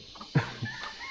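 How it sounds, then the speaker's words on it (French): Chickens with small chicks roaming free on a farm in Chiang Mai, Thailand, giving a couple of short, close clucks over quiet background noise. "Il y a des poules, il y a des petits poussins"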